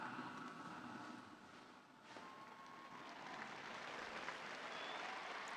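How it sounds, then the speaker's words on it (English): A large crowd at the Pope's Angelus blessing responds with steady applause and cheering heard from a distance, sustained and fairly faint throughout. "And the crowd reacts to receiving our Holy Father's blessing."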